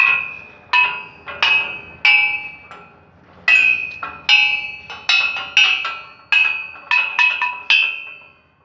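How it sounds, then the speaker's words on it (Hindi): A rusty hammer strikes a set of metal musical bars, giving a series of bright ringing clangs with tones that vary from bar to bar. The strikes come in an irregular rhythm, each ringing briefly before the next, close and fairly loud. "इसे हथौड़े से अगर हम ऐसे लेके अगर हम इसे मारेंगे तो आवाज़ आएगी अलग अलग।"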